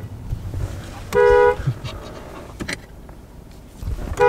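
A car horn gives two short, loud toots, one early and one at the end, with faint background noise and scattered voices in between.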